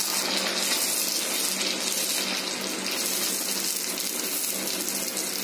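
Sago papads dropped one at a time into hot oil over a medium flame, giving a steady, dense sizzle and crackle that holds at an even loudness throughout, with no voices.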